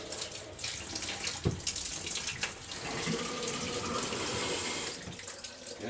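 Hot water runs from an outdoor tap on a farm, a close, steady gushing splash with a brief surge near the start and a smooth flow through the middle.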